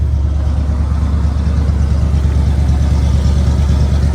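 A Chevy plow truck engine, freshly fitted with a new fuel filter, idles steadily up close with a deep, even rumble and no voices.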